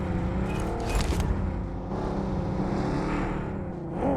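A car engine revs and roars in a multiplayer shooter match, loud and continuous with shifting pitch as the vehicle accelerates up close.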